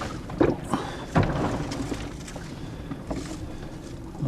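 Strong gale wind at sea aboard a sailing boat in the Greenland Sea, a steady rushing roar with buffeting gusts and water sloshing against the hull, loud and continuous with no talk.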